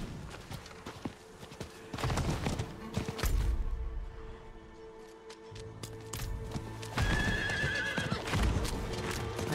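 Horse neighs and whinnies alongside clip-clopping hooves in Diablo IV, rising and falling in loud bursts over a busy game soundscape.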